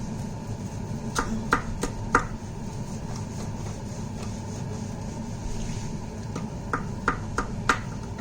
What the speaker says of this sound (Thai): แค่มาโชว์ โชว์หั่นพิซซ่าเฉยๆนะคะ